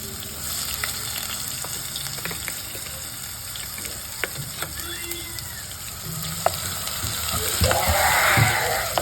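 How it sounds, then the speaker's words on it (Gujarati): Rajma gravy poured into hot oil in a home kitchen, giving a steady close crackle and sizzle that swells louder near the end, with faint clinks and splashes of stirring. "હવે આપણે ગ્રેવી નાખી દઈએ પટપટાટી એમાં ઉઠશે"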